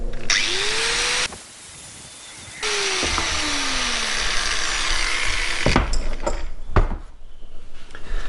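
Angle grinder cutting through rebar on an old rusty drill press under restoration: a loud, sustained high whine with a short pause and a falling pitch as the disc spins down, then more grinding with clanks of metal at the end.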